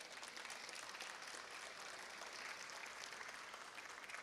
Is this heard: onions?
no